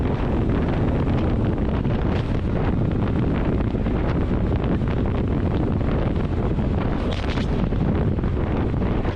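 Strong wind buffeting a microphone while riding a motorcycle on a hot, sunny road, a loud, steady roar of rushing air with low rumble throughout.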